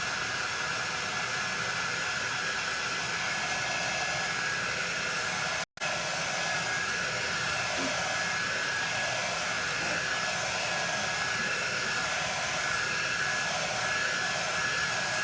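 A hair dryer drying paint on a tote bag blows with a constant, even whooshing roar, broken once by a split-second cut-out midway.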